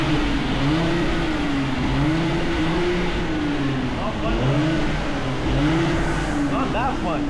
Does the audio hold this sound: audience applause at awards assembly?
no